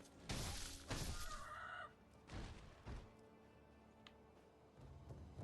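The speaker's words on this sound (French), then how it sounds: "Oh putain c'est un coq." A rooster in the video game Sekiro, heard as loud clucking and squawking bursts close up, several harsh calls in the first seconds, then a few thuds and quieter ambience.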